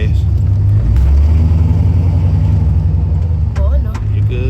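A car engine in a family car driven by a nine-year-old revs as the gas is pressed, a loud, close, steady low rumble that swells and holds, with a voice speaking briefly near the end.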